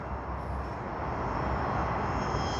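An aircraft departing Sydney Airport gives a loud, continuous broadband engine roar that swells slightly as it goes, with a thin high whine on top and no talk.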